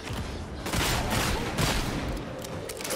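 A rapid burst of gunfire landing headshots in Warhammer 40,000: Darktide played in VR, several sharp shots close together over dense, continuous game noise.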